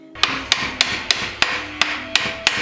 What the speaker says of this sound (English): To remove it, you just need to get a pry bar and try to hammer it out.